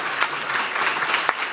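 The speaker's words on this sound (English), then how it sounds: "Round of applause." Applause from a room full of people at a cohort graduation, steady clapping filling the whole moment without a break.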